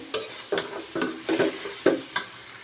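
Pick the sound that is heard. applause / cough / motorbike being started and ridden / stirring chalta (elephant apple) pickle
stirring chalta (elephant apple) pickle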